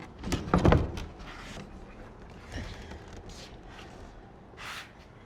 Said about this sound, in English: lift the door up and tip it out of the opening